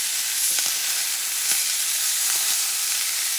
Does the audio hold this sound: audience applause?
no